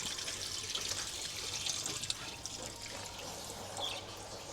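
Water sprays steadily from a pipe during the relocation of a house water pump, a continuous close hiss and splash that holds at an even level throughout.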